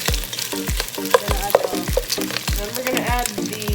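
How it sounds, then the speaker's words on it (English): Browned pork for Kapampangan adobo sizzles in hot oil in a pan, stirred with a utensil that scrapes and clacks against the pan in a steady rhythm of repeated strokes, up close, with no talk. "now that the meat has turned brown, I'm going to mix it up."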